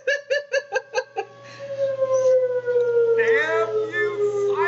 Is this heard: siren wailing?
yes